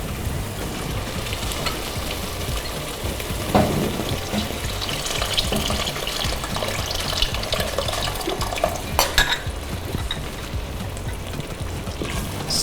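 Chicken stock goes into a hot pot of smoky jollof rice, hissing and sizzling steadily while a spoon scrapes and stirs, with a few sharper clinks along the way.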